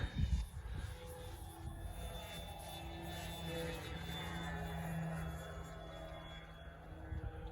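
A small engine drones steadily throughout, an Avios Grand Tundra model plane buzzing at moderate distance as it makes a short STOL-style takeoff and keeps flying, with a brief louder burst at the start.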